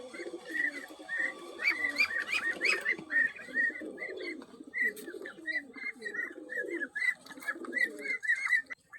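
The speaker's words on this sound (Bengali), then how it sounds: "এক জোড়া টেডি কবুতর দেখাচ্ছি" A pair of teddy pigeons in a loft coo close by, soft throaty rolling calls repeating almost without pause, with light chirps mixed in and no talking.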